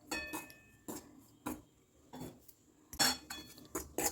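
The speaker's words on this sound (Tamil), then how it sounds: "இதில் வந்து இந்த ஒரு டம்ளர் ஒரு கப்பு 200 கிராம் கேழ்வரகு மாவை கொட்டி நல்லா வறுத்துக்குவோம்." Ragi flour is being dry-roasted in a kadai while a metal spoon scrapes and knocks against the pan in an irregular run of close, fairly quiet clinks and scrapes.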